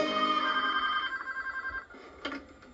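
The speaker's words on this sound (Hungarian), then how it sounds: "ha csörög a telefon" An electronic phone ringtone in a 2004 Hungarian TV advertisement plays a bright, warbling trill for about two seconds, then stops, followed by a couple of faint clicks.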